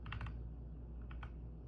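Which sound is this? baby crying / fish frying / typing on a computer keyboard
typing on a computer keyboard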